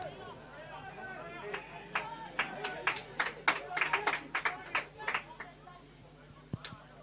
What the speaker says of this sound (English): Good little applause from the Lambton fans.